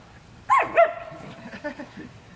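A dog gives a short whining yelp followed by softer whimpering sounds, close by.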